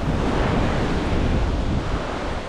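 Surf breaking at a sandbar on Friendship Beach in the Caribbean, a steady, loud roar of waves washing in with wind noise across the microphone and no voices.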